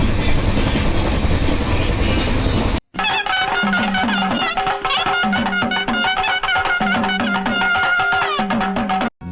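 A train runs on rails with a loud, steady, close rumble at first, then the sound shifts into a brighter, more tonal stretch that carries on to the end.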